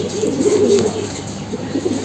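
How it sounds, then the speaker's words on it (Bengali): A rare red-eyed army pigeon coos close up, a low soft rolling call over quiet background. "লাল জিরার কবুতর এইগুলা বর্তমানে সময়ে কিন্তু অনেক রেয়ার একটা কবুতর"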